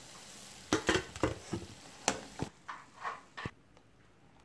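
Chicken bonda deep-frying in oil, with a quiet, continuous bubbling sizzle broken by a series of sharp clicks and taps, close by and faint, no voices.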